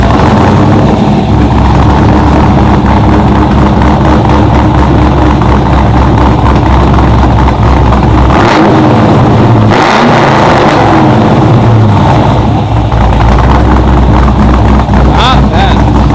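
A car engine with a choppy aftermarket cam idles loudly nearby in a lumpy, uneven rhythm, then revs up in short bursts, with people talking over it.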